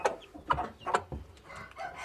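Malatya Arab hen clucking close by, a few short repeated calls in quick succession with chicks and other fowl faintly around.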